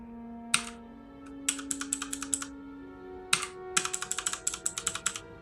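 Typing on a computer keyboard comes in two quick bursts of crisp, close key clicks over a faint steady hum, with no talking.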